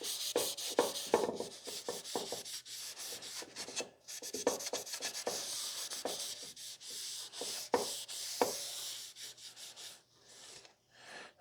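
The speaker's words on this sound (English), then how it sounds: "So let's stain this top part." A cloth works wood stain into the top of a wooden grain-sample display, giving close, soft rubbing strokes in an uneven rhythm with short pauses, fading out near the end.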